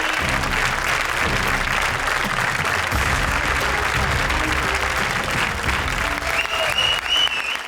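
A studio audience on the comedy show Comedy Circus Kaante Ki Takkar bursts into dense, loud, continuous clapping for the top-scoring pair, with music thumping underneath throughout.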